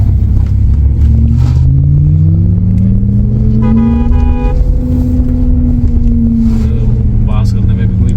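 An electric car's artificial drive sound gives smooth, rising and falling synthetic tones over a steady road rumble while the car drives on a mountain road, with a voice talking over it.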